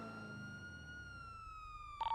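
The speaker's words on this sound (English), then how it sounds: "Here, cut your sirens." A steady police siren tone in NoPixel 4.0, a Grand Theft Auto V roleplay server, holds and slowly falls, loud and close, then ends with a brief electronic beep.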